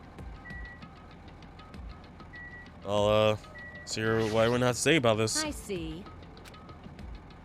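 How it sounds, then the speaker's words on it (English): Truck engine in Danganronpa 2, a low rhythmic knocking rumble running throughout at moderate level beneath a voice talking in the middle. "First things I noticed was the roaring engine of a nearby truck."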